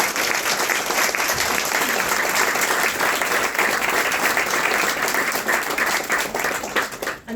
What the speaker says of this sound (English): I'd love if we could have a round of applause for Joe.